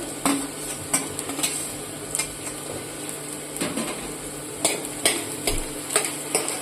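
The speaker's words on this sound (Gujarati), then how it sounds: "આમાં થોડીક વાર સાંતરીશું" Onion and finely chopped carrots sautéing in a pan while making corn soup, a steady soft sizzle broken by irregular clicks and scrapes of stirring, close and moderately quiet with no talking.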